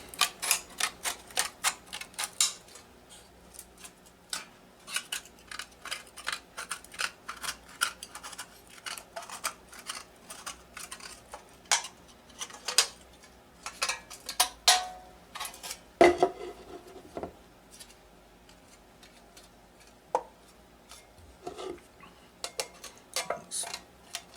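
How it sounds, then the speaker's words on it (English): Metal cookie sheet being cut apart to build a stove: close, sharp snipping clicks and metallic ticks arrive in irregular bursts with short quiet gaps between them. "Cut this away so I can get that hard, large part there, right off of there."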